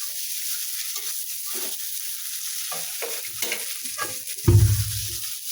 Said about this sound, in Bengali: পেঁয়াজ ভাজা একবারে কড়াইয়ের মধ্যে নাড়তে নাড়তে একবারে ভর্তা করে ফেলায় দিই।